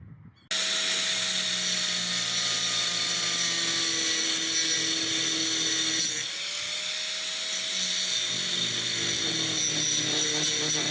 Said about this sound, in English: So hopefully it stays nice and still when he's running the grinder over it.